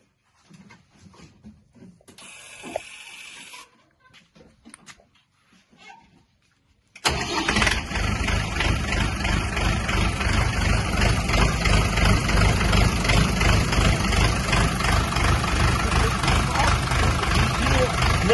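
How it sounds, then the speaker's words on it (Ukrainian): Quiet rustling and a few faint voices, then a Scout 504 tractor engine cranks and catches suddenly, settling into a loud, steady idle that continues to the end. "І зараз ми заведемо трактора"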